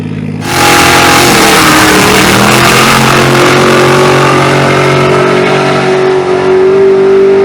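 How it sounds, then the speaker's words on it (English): Ferrari F12 revving hard at drag race staging during test and tune, a loud, close, sustained engine roar with rising pitch that holds steady for several seconds. "We are staging the Ferrari F12."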